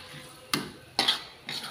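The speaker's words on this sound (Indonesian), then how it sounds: "Lalu aduk sampai rata." A spoon stirs potato and petai sambal with instant coconut milk in a pan, making three distinct scraping clinks against the metal over a faint background hiss, close and moderately loud, with no talking.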